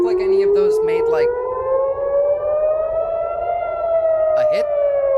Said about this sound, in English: The sirens just started going off, so expect quite a bit more.